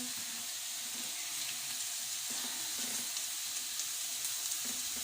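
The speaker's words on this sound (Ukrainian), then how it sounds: "Зараз перемішаю, теж без солі, щоб морква теж е, трохи притомилася." Carrot fries without salt in a pan while being stirred, producing a steady soft sizzle with faint scraping stir sounds on top, close and fairly quiet.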